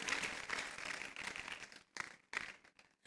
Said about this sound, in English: I agree with a louder applause